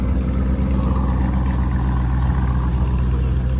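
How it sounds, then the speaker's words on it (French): SV supercar with a loud aftermarket exhaust, a deep, powerful engine roar heard up close, sustained and steady throughout on a street in Cannes. "Ici on a une belle SV avec un échappement,"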